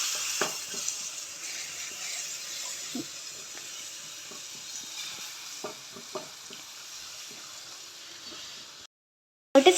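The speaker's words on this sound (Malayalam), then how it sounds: "കുതിർത്തി വെച്ചിരിക്കുന്ന പുളി ഇതിലോട്ട് ഇട്ട് കൊടുക്കാം ഇളക്കി കൊടുക്കാം" Soaked tamarind is stirred into a Kerala-style tuna curry base in a pan. A low, quiet sizzle runs under scattered scrapes and light taps of a spoon, and a brief dropout comes near the end.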